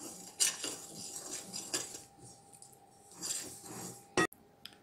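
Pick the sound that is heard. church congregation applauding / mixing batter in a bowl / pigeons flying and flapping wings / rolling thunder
mixing batter in a bowl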